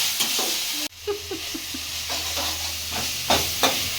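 Dried red chillies and garlic cloves frying in oil with a constant close sizzle, punctuated by slow, repeated scraping and stirring sounds of a spoon in the pan.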